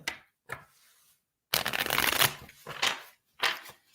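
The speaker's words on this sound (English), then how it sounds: "So I'm going to pull a couple of tarot cards for you as well." Tarot cards are shuffled and pulled in several short riffling bursts, with a longer flurry in the middle and brief pauses between, close and fairly soft with no talk.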